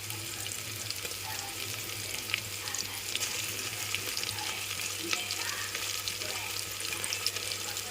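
Ginger garlic paste frying with onions and green chillies in a pot for vegetable dum biryani, a steady, fairly loud hiss and crackle that runs unbroken throughout, with no talking.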